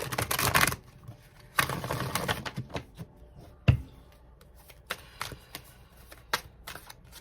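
Tarot cards are riffled in quick crisp bursts, followed by scattered soft taps and flicks as they settle, close and fairly quiet.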